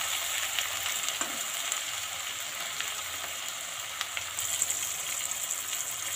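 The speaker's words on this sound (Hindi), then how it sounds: "प्याज थोड़ा थोड़ा पकने लगा है" Chopped onions fry steadily in a pan for a Bihar-style spicy chicken curry, a continuous close sizzle with light crackles and occasional stirring scrapes, no voices.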